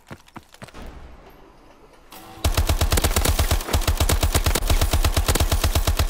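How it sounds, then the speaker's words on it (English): Akimbo SAC-3 submachine guns in Call of Duty Advanced Warfare: after a few handling clicks, a loud, rapid, unbroken burst of automatic fire runs for several seconds. "now we got akimbo SMGs, which are SAC 3"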